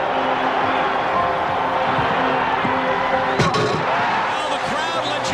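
Dense, loud arena crowd roar filling the whole stretch at a basketball game after Michael Jordan's free-throw-line dunk, swelling with a sharp slap-like burst midway and no clear voices standing out.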